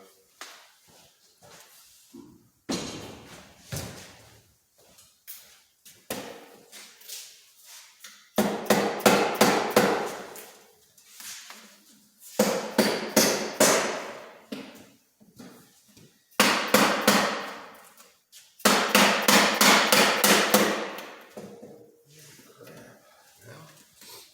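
Bursts of rapid, sharp mallet blows in quick clusters while repacking a Kawasaki KX450F exhaust, separated by short pauses with quiet movement and clatter in between.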